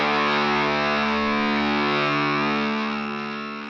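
Electric guitar run through a ZVEX Fuzz Factory fuzz pedal, a thick, buzzing, heavily distorted sustained chord with dense bright overtones that holds steady and then begins to fade, with no one talking.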